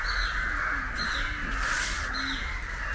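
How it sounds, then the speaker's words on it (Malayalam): Several crows cawing near a house being renovated, harsh repeated calls coming in short bursts over a constant background hum, with no talk. "കാക്കയൊക്കെ ഒത്തിരി കാക്ക"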